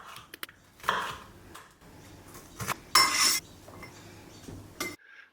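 A knife chops celery on a cutting board while a Thai pork stir-fry is being prepared, giving a run of irregular, close, sharp taps and knocks, with one louder clatter partway through and no talking.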